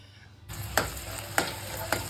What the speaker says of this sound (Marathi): कांदा परतून सुद्धा घेतो आहे